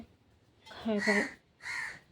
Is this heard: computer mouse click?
no